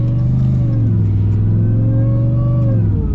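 Ram TRX pickup with an aftermarket air intake revving hard, a loud close engine roar with a rising and falling supercharger whine layered over the deep exhaust note.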